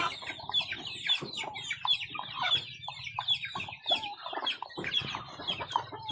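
Continuous clucking of chickens mixed with high peeping chicks, busy and overlapping, close and steady throughout.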